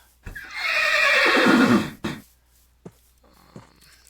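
A horse neighs in the Hexxit video game: one loud, drawn-out whinny, followed by a few soft thuds and quiet clicks.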